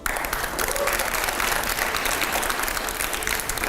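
Loud, sustained applause from a studio audience at a televised debate show, a dense crowd clapping steadily for several seconds with no break.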